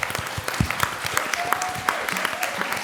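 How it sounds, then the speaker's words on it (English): Audience applause at a San Francisco State University ethnic studies event, steady dense clapping for about three seconds with some voices mixed in. "Can we give them a nice round of applause?"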